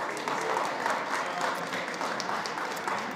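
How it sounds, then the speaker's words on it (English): An audience at a food summit panel at SXSW claps steadily, a dense, continuous wash of applause filling the room from start to finish with no talk over it. "Give them a round of applause,"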